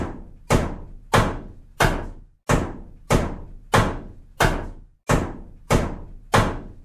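A television is smashed with a steady series of about ten heavy, evenly spaced thuds, each blow ringing off briefly before the next.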